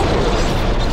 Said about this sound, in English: another maelstrom bolt